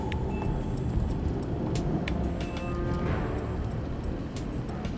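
A car driving in a French TV drama scene, its engine and road noise a steady close rumble throughout, with scattered clicks and brief high tones over it.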